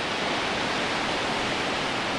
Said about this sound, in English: The waves are wild today,